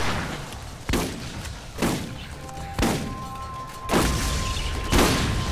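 Turret gunfire in the Borderlands video game: five spaced, booming shots about a second apart, each a sharp broadband burst with a decaying tail, over a steady game background with a faint tonal hum.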